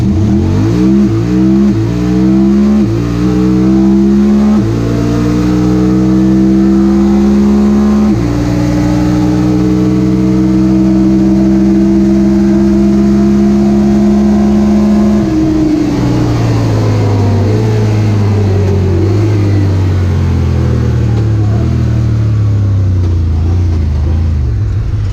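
A Honda Talon 1000R side-by-side, automatic, launches at full throttle in two-wheel drive, its engine roaring loud and close as it climbs steadily through rising pitch, with brief shift dips, then holds a sustained high drone.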